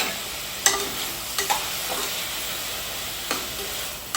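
Tomatoes fry in hot ghee, a soft steady sizzle broken by a few sharp clacks of a spoon stirring against the pan, close and without talk.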